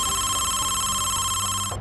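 A telephone rings steadily with a bright, sustained electronic tone for nearly two seconds before cutting off abruptly.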